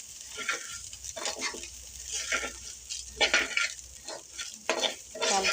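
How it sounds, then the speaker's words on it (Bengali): Rice fries in oil for chicken biryani, with a soft steady sizzle broken by repeated scraping strokes of a spoon or spatula stirring against the pan, close and moderately quiet. "যে চালটা ভেজে নিচ্ছি।"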